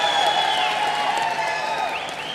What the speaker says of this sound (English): Keep those claps going for the megastar